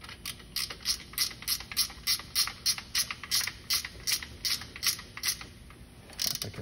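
Ratchet wrench clicking in a steady rapid rhythm, close and clear, tightening a new drain plug into a car's oil pan, with a brief pause near the end before a final burst of clicks.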